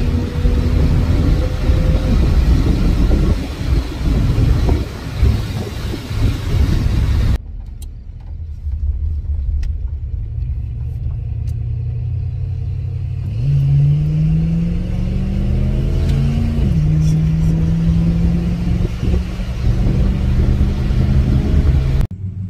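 A car fitted with an Edelbrock carburetor drives along, its engine droning loudly and steadily, rising in pitch as it accelerates through gears over road rumble.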